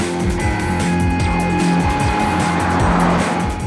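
2014 Porsche Cayenne engine revving hard under acceleration, a loud strained rising roar with repeated climbing pitch sweeps as it pulls through the gears, close and continuous, no talk.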